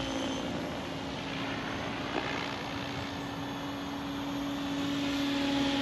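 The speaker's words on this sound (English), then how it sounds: "this is a pretty low head speed right now for this helicopter. This is 1750 RPM" Steady mechanical whine of an XL Power Nimbus 550 RC helicopter held at a low 1750 RPM head speed, flying continuously at moderate distance with a constant tonal hum and broadband rotor wash throughout.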